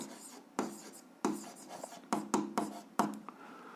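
A pen scratches across paper in a series of short, crisp strokes with brief pauses between them, close and quiet, as an equation's graph is drawn.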